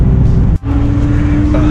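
A classic Mercedes 380SL drives along with a steady low engine and road rumble, close and loud, with a brief dip in the middle.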